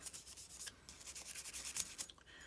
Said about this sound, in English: clean the outside of the barrel